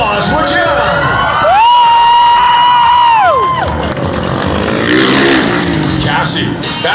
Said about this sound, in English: Give him twice the applause, would you?